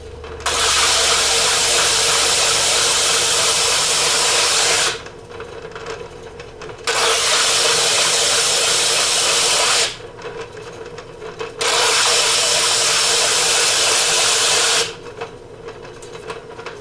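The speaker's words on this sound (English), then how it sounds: "I'm going to grind right through that glaze" A grinder wears glaze off the bottom of a porcelain ceramic piece in three long, loud, harsh abrasive passes, separated by short quieter pauses.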